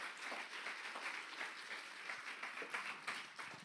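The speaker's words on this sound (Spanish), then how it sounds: "Un aplauso para el ministerio." A church congregation applauds the music ministry, a steady wash of clapping from many hands that holds at a moderate, slightly distant level for a few seconds, without talk.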